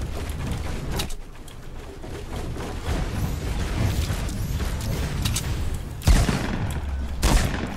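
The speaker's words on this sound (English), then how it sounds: "Someone's shooting?" Gunfire in the Fortnite video game, a dense rattling fusillade of shots at mid distance running steadily throughout, with sharper louder bursts near the end and no talk.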